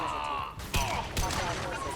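Gunfire in Mass Effect 2, a high-impact shot during combat: two sharp broadband blasts land close together amid a dense, continuous game soundscape, with voices talking faintly underneath.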